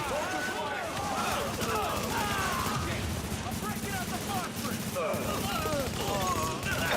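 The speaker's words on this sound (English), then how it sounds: "Reporting gunfire in the station above us." Gunfire in the video game The Division 2, a dense crackling fusillade of rapid shots and bursts from a station firefight, steady and fairly faint in the mix, with radio-style voices talking over it.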